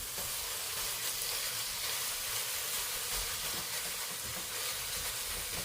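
Ground beef browning in a preheated, lightly oiled pan, a steady dense sizzle and crackle that stays even and moderately loud throughout with no talking.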